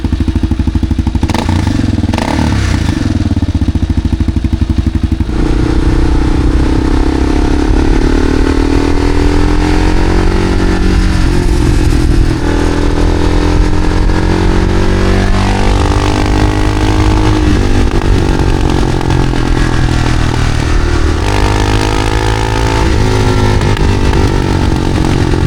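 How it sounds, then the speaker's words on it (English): Kawasaki KLR 650 single-cylinder motorcycle fitted with an upgraded exhaust, riding past close and loud with a steady thumping drone, rising and falling revs as it accelerates through gears over about 25 seconds. "it sounds like a 650cc single cylinder that's been around since the late 90s"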